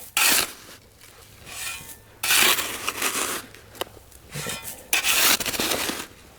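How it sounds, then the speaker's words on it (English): A shallow pit is dug in sand for firing a large Hohokam pottery jar: several close, gritty scraping scoops in bursts with short pauses between them, no voices. "First thing we're gonna do is just start digging a shallow pit."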